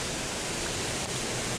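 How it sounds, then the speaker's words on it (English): Silver Creek Falls waterfall heard from right underneath it, a loud, constant, enveloping roar of falling water with no break. "I go right under the waterfalls"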